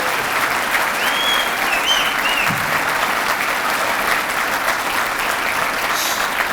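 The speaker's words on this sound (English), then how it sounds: "Can we give Susan a huge round of applause to her and the rest of this board for putting this together?" Gala audience applauding Susan and the board at the C.O.P.S. Gala in Sacramento, a dense, even wash of many hands clapping, loud and sustained throughout.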